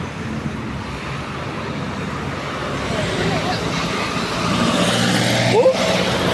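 Jeepneys and other vehicles rumble through busy street traffic, a steady close engine wash that builds slightly louder toward the end, with a brief higher squeal near the finish.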